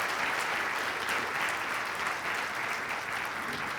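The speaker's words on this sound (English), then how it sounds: "Another round of applause for our award winners." A seated crowd at a fire division awards ceremony in Columbus gives award winners a steady wash of applause. The even, continuous clapping is fairly soft and sounds slightly distant, with no voices over it.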